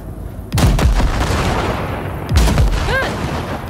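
Weapon fire blasting wrecks in Cyberpunk 2077, two loud booming blasts about two seconds apart, each with a deep low thump and ringing tail over a steady rumbling background.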